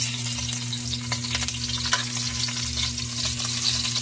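A small amount of oil sizzles and crackles steadily in a pan during home cooking of chicken, a close, continuous frying hiss with occasional stirring scrapes and a low background hum.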